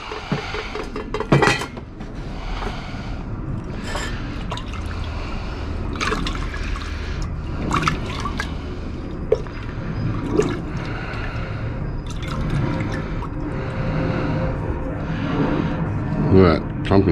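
Hot water is poured over clumped gold during refining, a running liquid trickle with clinks of dishes and glassware, and someone talking over it.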